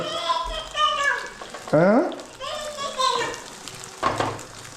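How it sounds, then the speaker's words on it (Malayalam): Omelette batter with pieces of french fries fries in a pan, a soft steady sizzle under nearly continuous talking. "ഓംലെറ്റ് ഒഴിച്ച് അതിൻ്റെ ഇടയ്ക്ക് ഓരോ ഫ്രഞ്ച് ഫ്രൈസിൻ്റെ കഷ്ണം എടുത്തിട്ട്"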